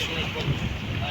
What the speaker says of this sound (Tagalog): Walang tigil talaga ang hangin mga idol.